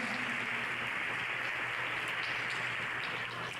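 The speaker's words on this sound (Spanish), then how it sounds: "Dar un aplauso al Rey de Reyes" Church congregation applauding during a Spanish-language worship service, a steady dense wash of clapping held at an even level from start to finish with no voices rising above it.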